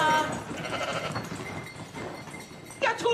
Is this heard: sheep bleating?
yes